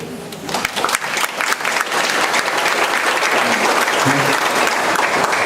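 An audience at a public conference in Jaén, Peru claps loudly and steadily for several seconds, a dense wall of applause with no speech over it.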